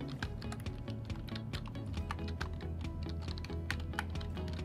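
Typing on a computer keyboard, entering a web address into a browser: a steady run of close, crisp key clicks at an even pace, heard alone without talk.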